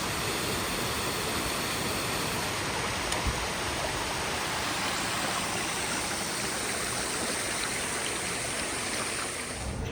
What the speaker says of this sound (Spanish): llegamos a las cascadas de los Duendes